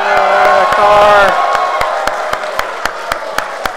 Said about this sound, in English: So, what I would like to have is a round of applause.